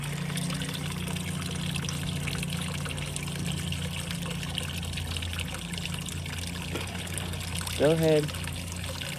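Water trickles onto small plants in a backyard kiddie-pool pond, a low, steady dribble under a continuous hum, while a person speaks briefly near the end.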